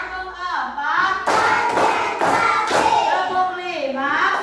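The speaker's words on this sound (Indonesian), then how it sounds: "Tepuk 1, tepuk 2, tepuk 3," Children in a classroom clap their hands in short rhythmic bursts during a counting clap routine, sharp slaps mixed with a speaking voice and chanting children.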